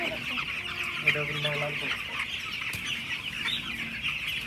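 Broiler chickens on a poultry farm cluck steadily, a dense chorus of overlapping clucks and calls with no pause, fairly near, and one brief sharper call stands out above the flock.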